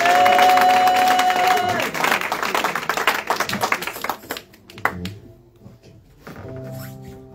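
A church congregation at a Sunday thanksgiving service cheering and clapping for the Lord, loud crowd acclaim with a sustained tone that thins into scattered, uneven claps and fading voices.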